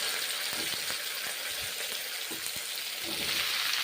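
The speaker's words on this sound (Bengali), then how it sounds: "ভেজে নিচ্ছি মাশরুম মাশরুম ঝিঙে এখন ভেজে নিচ্ছি" Mushrooms and ridge gourd fry in a pan with a steady, close sizzle, broken by occasional soft clicks and scrapes of stirring throughout.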